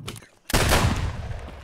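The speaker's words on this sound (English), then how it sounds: "MP153? Damn, this shotgun fucking bangs." A single loud, close blast from an MP153 shotgun in Escape from Tarkov, a sharp boom followed by a rumbling echo that trails off.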